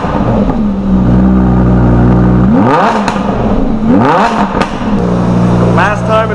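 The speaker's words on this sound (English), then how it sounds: "They are putting an exhaust on my Huracan." A Lamborghini Huracan with its stock exhaust revs loudly nearby, the engine note climbing and falling through several sharp rev sweeps over a steady idle, with a voice talking over it.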